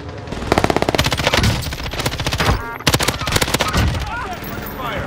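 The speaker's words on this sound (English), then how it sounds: "The Armadillo is now the new best SMG in Warzone." Rapid bursts of Armadillo SMG fire in the Warzone video game crackle in loud, tight volleys, with a short pause before another string of automatic shots; voices speak over the gunfire.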